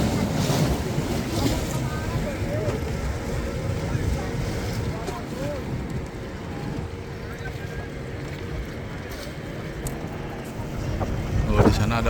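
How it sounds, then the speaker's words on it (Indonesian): Ocean waves roll and surge at Santolo beach, heard from a small boat at sea under heavy wind buffeting the microphone, with voices talking now and then over the steady wash. "di sana ada ombak di tengah."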